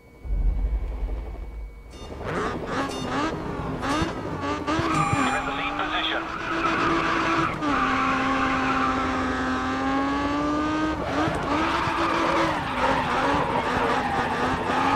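A car in the racing game Grid Autosport drifts through a qualifier lap, its engine revving loudly while the tires squeal in long, sustained skids that waver in pitch, close up and continuous.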